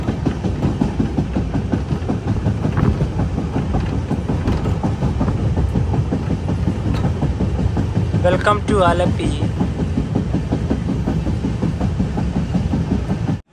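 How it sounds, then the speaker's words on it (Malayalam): Inside a Sampark Kranti Express sleeper-class coach nearing Thuravoor station in Kerala, a loud, steady rumble and rhythmic clickety-clack roll on throughout, with a short high metallic squeal partway and someone speaking over the noise. "ട്രെയിൻ ഇപ്പോൾ തുറവൂർ റെയിൽവേ സ്റ്റേഷനിലേക്ക് എത്തിയേ."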